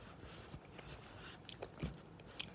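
Homemade sushi-shaped candy bitten and chewed up close, a few soft crunchy bites and mouth sounds spread over a couple of seconds, quiet and without speech.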